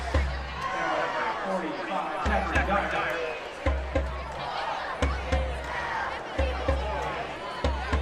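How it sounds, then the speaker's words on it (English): A high school homecoming football crowd: the student section does the Viking clap, with a deep boom and a sharp clap roughly every second over steady crowd chatter from the stands. "Student section starting the Viking clap, trying to keep this defense in it"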